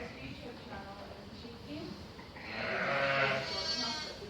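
Sheep and lambs call from inside a shed on a rainy day, with a louder drawn-out bleat rising near the end over low background murmur and shuffling.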